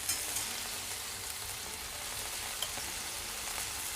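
Beef steak, a pan-fried sahan steak, sizzles in a pan with a steady, fairly quiet hiss and faint crackles, and no voices over it.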